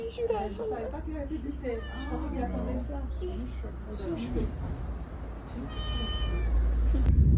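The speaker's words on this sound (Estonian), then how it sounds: "Väga tore kass, kes ronib nende jalgu ülesse." A cat meows repeatedly and fairly close on an outing in Albania, its cries rising over steady talk and a low rumbling background, with a brief high whistle-like tone near the end.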